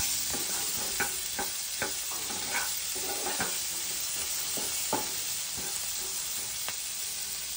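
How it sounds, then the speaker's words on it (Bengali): Chopped onions fry in a pan with a steady soft sizzle, cut by irregular scraping and tapping clicks as they are stirred. No voices. "এদিকে পেঁয়াজটা একটু ভাজা হোক"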